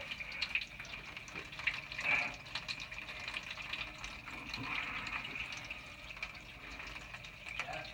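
Tap water runs steadily into a sink during a house plumbing inspection on a country road flip, a continuous soft hiss with faint background noise and no talk.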